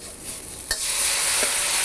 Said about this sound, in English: As it's getting hot, as it's starting to sizzle